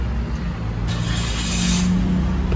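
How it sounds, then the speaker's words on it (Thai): A 2019 Toyota Yaris engine started with the push-start button, a steady low idle hum with a brief broadband surge as it catches, heard close and alone. "เครื่องยนต์ก็จะสตาร์ทติดนะครับ"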